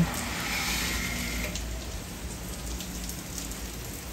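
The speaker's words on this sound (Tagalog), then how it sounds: "Parading umuulan ngayon." Steady rain pours down in a dense, hissing patter, constant and fairly close, with no voices.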